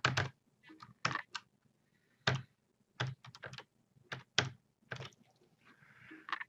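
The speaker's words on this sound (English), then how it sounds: "You can just type in a new one." Typing on a computer keyboard to enter a new email address, irregular clusters of crisp key clicks with short pauses between bursts, close and clear, with no voices.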